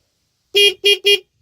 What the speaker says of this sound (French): Je vais vous montrer le klaxon.